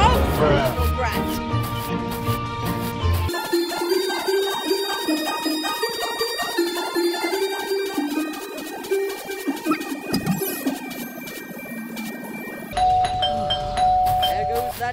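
Repeated electronic doorbell chimes ring in the Scary Teacher video game, bright tonal dings layered over busy game music and sound effects, with voices speaking throughout.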